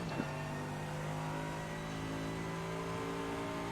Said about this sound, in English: we're going to do the downshift and just get the thing turned in